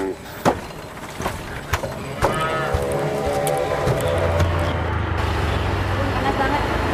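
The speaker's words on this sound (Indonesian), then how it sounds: "Aku mau kasih makan sapi dulu." Cattle on a farm low in a long, steady moo through the latter half, with sharp wooden knocks and clatter early on and faint traffic hum behind.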